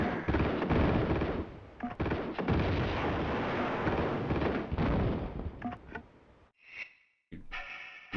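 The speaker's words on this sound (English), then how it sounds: "One of the least useful grenade launchers of all time, gotta say." Grenade launcher fire in Tomb Raider 2 on the PS1: loud, heavy booming blasts that roll together into a sustained rumble, then break into a few sharper separate bursts near the end, with no talking.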